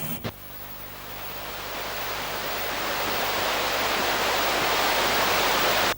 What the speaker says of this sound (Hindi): समंदर की लहरें होंगी।